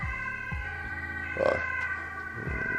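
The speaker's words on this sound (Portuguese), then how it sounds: "Caramba, Sirene." A siren wails in the distance over steady background hum, its pitch rising and falling faintly through the scene.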